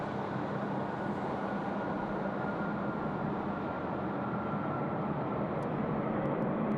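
An Emirates Airbus A380 departs Sydney Airport, its jet engines giving a steady, loud, broad roar that holds constant throughout, heard from a distance without voices.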